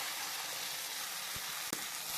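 Chopped tomatoes tossed into a pan of softened onions for coriander chutney give a steady, close crackling sizzle, with a couple of soft stirring knocks near the end.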